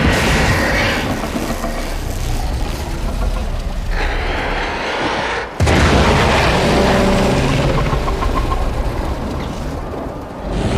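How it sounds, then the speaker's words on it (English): A heavy explosion from Warframe: Heart of Deimos, a loud sustained rumbling blast with a brief dip before the roar surges back, dense and close throughout. "There should be useful detritus falling from the explosion."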